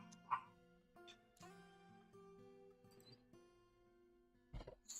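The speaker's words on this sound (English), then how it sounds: "If you can hear them barking at any point." Pet dogs somewhere in the house, one of them named Paco, give faint, distant yips, whimpers and short barks in scattered bursts over a quiet room, ending with a louder thump.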